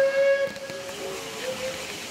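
A train whistle on a model or toy railway layout with Southern Railway livery, a steady tonal blast that shifts pitch briefly and sounds again near the end, moderately loud over faint background noise.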